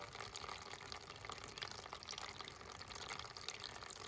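Water drains from an old air compressor tank left undrained for 29 years, a continuous close splashing gush that runs steadily and fairly quietly throughout.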